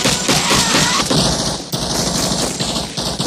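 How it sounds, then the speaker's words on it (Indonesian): A Vietnam War film firefight against the Vietcong erupts in dense, rapid bursts of automatic rifle and machine-gun fire, loud and close, with shots overlapping in chaotic volleys and only brief gaps. "Tapi Erikson menembakkan senapannya ke udara, memperlihatkan mereka ke Vietcong terdekat dan baku tembak pun terjadi"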